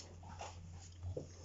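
Dogs gnawing on bones in the background of an indoor room give off faint whimpers and soft panting, quiet and distant, with no talk.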